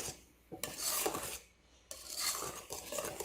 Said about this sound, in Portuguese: E mexendo com o nosso fouet.